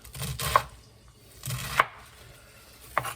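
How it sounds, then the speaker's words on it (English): A knife chops vegetables into squares for Western Ukrainian borscht with beef, three separate sharp cuts against a board spaced about a second apart, close and clear with no talking. "Sometimes when I was a cook, we cut like this, squares."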